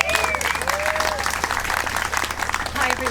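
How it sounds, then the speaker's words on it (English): Crowd applause at an outdoor freedom rally in Forster-Tuncurry, a dense, steady wash of clapping from many hands lasting throughout, with some voices and cheering mixed in. "Everyone give Bernie a large round of applause"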